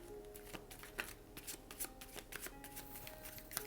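Tarot cards being shuffled during a love-horoscope reading for Aquarius: a steady run of close, crisp riffling and slapping with small bursts, continuing alone without any talk.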